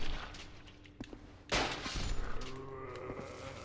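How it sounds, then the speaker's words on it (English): A light crossbow fires bolts in Dark Souls 2, heard as sharp twangs at moderate loudness: a quick snap and then a louder, fuller shot, followed by trailing game ambience with no talking. "Here is where we'll equip that light crossbow, and we'll equip the bolts. And we're just gonna fire."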